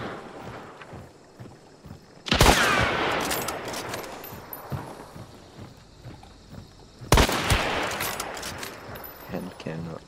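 Hand cannon gunshots in the video game Hunt: Showdown, two loud sharp blasts several seconds apart, each with a long rumbling tail, amid a noisy game background.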